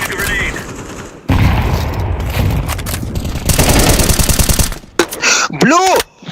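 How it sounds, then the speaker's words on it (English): A grenade explosion and gunfire in the Counter-Strike 2 video game: loud, close bursts of rapid shots and booming blasts with a fast rattling stretch, and voice chatter breaking in near the end. "Throwing a grenade."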